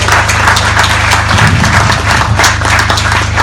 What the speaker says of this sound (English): So a big round of applause to you for all that support.